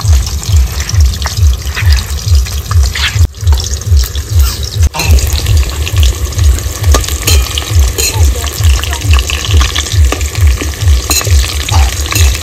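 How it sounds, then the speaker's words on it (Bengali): Potatoes sizzle loudly in hot mustard oil, a steady close frying crackle with rhythmic stirring scrapes pulsing throughout, no voices. "এবার আলুগুলো ভেজে নেব।"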